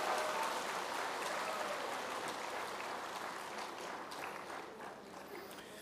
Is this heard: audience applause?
yes